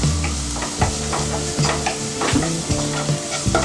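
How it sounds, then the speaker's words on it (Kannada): Onions stirred in a frying pan with turmeric and Kashmiri chilli powder over medium flame, a loud close sizzle broken by rhythmic scraping strokes of a spatula against the pan. "ಮೀಡಿಯಂ ಫ್ಲೇಮಲ್ಲಿಟ್ಟು ಚೆನ್ನಾಗಿ ಮಿಕ್ಸ್ ಮಾಡ್ಕೊಳ್ಳಿ. ಈರುಳ್ಳಿ ಒಂದು ಲೈಟ್ ಬ್ರೌನ್ ಆಗುವ ತನಕ"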